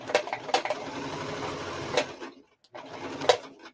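Up close, a home sewing machine runs in two quick bursts of stitching through fabric for a hat, with a brief pause between them.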